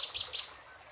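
A bird gives a couple of quick, high chirps close by in the first half second, then goes quiet against faint background noise.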